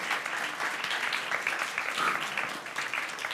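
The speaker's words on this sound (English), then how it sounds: "Just please give him a big round of applause because he has opened the night." Brief round of applause for the opening pitch presenter at a startup incubator pitch night, a soft, steady patter of clapping from a modest crowd without a break.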